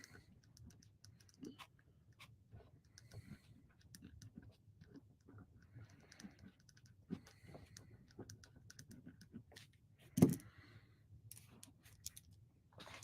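Quiet typing on a computer keyboard during a livestream about Lionel model trains, a soft, irregular patter of keystrokes with one sharper clack near the end, heard alone without speech.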